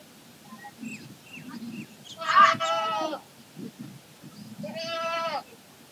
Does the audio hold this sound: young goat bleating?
yes